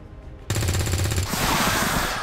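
Gunfire from a soldier's weapon in the turn-based strategy game XCOM 2, a loud burst of rapid repeated shots that starts abruptly and rings out for about two seconds, with no voices over it.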